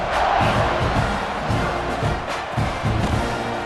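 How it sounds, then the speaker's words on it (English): Stadium crowd roaring and cheering in EA Sports College Football 26 at a Texas A&M home game before a kickoff, a loud, dense wash of massed voices that swells and dips. "this crowd is feeling themselves after that last drive."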